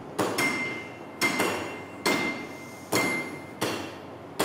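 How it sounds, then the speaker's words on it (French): Hammer blows on metal over an anvil during an art ironwork master class at a school forge, five sharp ringing strikes spaced about a second apart, each with a bright metallic ring decaying between hits, close and loud. "Reste plus sur le milieu de ton enclume."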